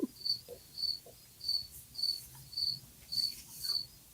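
Crickets chirp outdoors at night in a steady rhythm, about seven regular trilling pulses repeating roughly every half second, clear against a quiet background with no voices.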